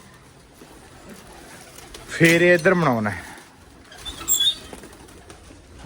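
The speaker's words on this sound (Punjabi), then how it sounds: "ਕਬੂਤਰ ਭੁੱਖੇ ਬਹੁਤ ਹੈ" Pigeons coo and flutter close by, a burst of wingbeats and throaty calls rising mid-clip, with a person speaking briefly over the birds.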